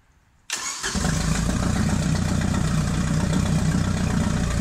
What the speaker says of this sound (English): now the engine just fires right up and runs great